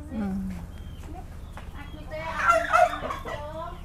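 Chickens clucking and squawking at a home in Indonesia where a chicken is taken for cooking, a burst of loud agitated fowl calls near the end with people talking nearby.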